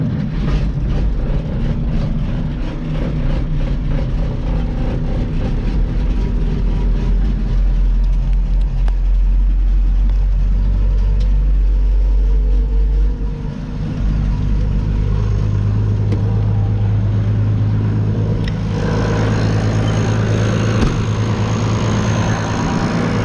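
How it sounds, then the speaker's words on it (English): A farm tractor's engine runs close by on a cold morning, a heavy, low diesel rumble with a steady idle. The rumble shifts pitch partway through, as if revving or changing load. "This tractor, I think the batteries are getting weak in it, but it's always a really good starter when it's cold."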